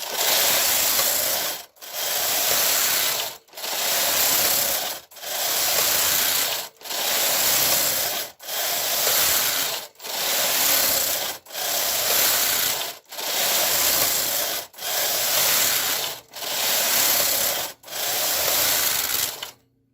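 A Brother KH940 knitting machine knitting lace, its carriage rasping in steady passes of about 1.5 seconds each, separated by brief pauses, close and fairly loud with no talking.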